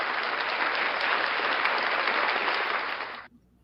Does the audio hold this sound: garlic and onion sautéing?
no